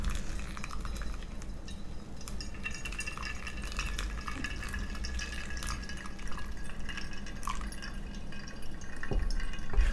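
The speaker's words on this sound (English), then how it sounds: "I'm pouring in a circular motion and I let it sit for about 30 seconds." Hot water trickles in a slow circular pour over pour-over coffee grounds, a soft steady splash and drip close up, with small glassy clinks and a louder rush near the end; no talking.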